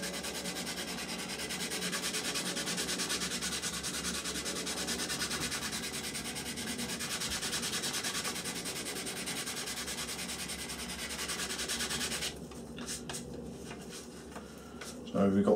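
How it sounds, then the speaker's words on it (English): Steady, close scratchy rubbing of sandpaper on wood by hand, continuous for about twelve seconds before stopping, with faint handling noise afterward. "a little bit more sanding"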